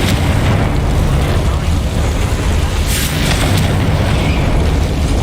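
A Confringo fire spell blasts in Hogwarts Legacy, a loud, dense rumbling explosion that fills the whole stretch with a sustained roaring boom and a brighter burst near the middle.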